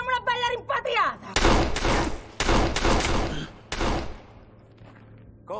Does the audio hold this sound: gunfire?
yes